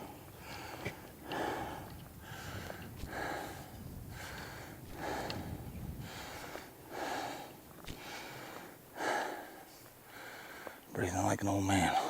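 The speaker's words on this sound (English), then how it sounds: "Breathing like an old man." Heavy, rhythmic breathing of a hiker climbing uphill on an elk hunt, about ten labored breaths close to the microphone, ending with a brief burst of outdoor noise.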